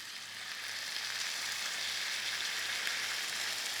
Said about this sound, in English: Then you start getting the sizzle.